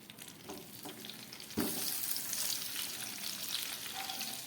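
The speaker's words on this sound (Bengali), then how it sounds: "এই বেগুনগুলোকে আমি ভেজে নিচ্ছি।" Spice-coated eggplant pieces frying in a pan, a faint crackle that swells abruptly into a steady, dense sizzle as more oil spits, continuing without voices.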